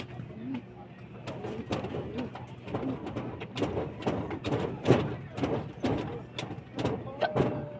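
Several pigeons coo repeatedly nearby in soft, throaty bursts, with occasional wing flutters and thumps, some from two fighting pigeons; a voice murmurs faintly in the background.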